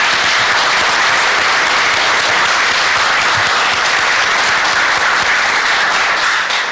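Applause from the audience at a city transportation committee meeting honoring staff, a dense, loud, continuous clapping from many hands that holds steady throughout with no pause.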